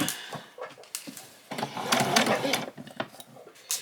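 A sewing machine stitching fabric for an apron, short bursts of rapid needle chatter with pauses between, close and moderately loud.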